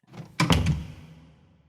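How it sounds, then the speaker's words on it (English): A front door swings and clicks shut with one firm thunk, followed by a brief rattle and a fading resonance in a quiet room. "The front door clicks shut."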